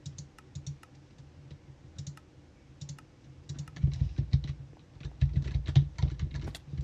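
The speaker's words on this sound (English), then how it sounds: "I'm sorry if you can hear me clickety-clackety in my keyboard" Typing on a computer keyboard while playing Minecraft, heard as quick, light clicky keystrokes in irregular bursts, close and fairly quiet, growing busier and louder halfway through, with no talking.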